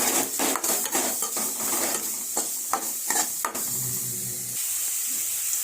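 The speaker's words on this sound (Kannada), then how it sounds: "ಸ್ವಲ್ಪ ಈರುಳ್ಳಿ, ಇದನ್ನೆರಡು ಫ್ರೈ ಮಾಡೋಣ." Onions frying in a pan alongside another ingredient, a steady sizzle with spoon scrapes and metallic clinks against the pan, fairly quiet and close with no talking.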